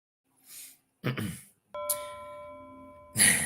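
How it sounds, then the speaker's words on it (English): A doorbell chime rings with a sustained tonal ring after a couple of brief noises, followed by a louder burst at the end. "There's the bell again."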